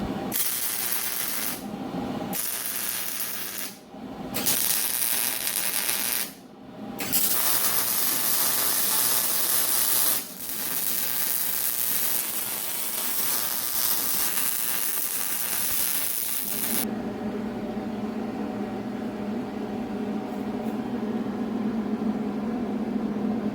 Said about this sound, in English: I think I'm ready to start welding.